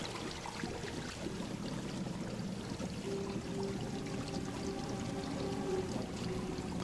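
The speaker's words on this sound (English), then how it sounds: "Yeah, I dare say there's a water leak." Water leaking at Bunny Hall in Bye, Sweet Carole, a steady, faint pouring and trickling stream that runs continuously with no pauses.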